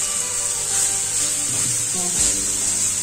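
Chopped cabbage sizzles steadily in a hot pan while being stirred, with a constant close hiss and occasional soft scraping of the spoon through the leaves.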